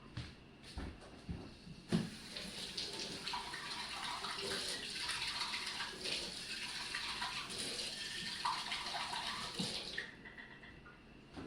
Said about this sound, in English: we still got this last step here, the tomato sauce to clean. Ooh, rinse this out.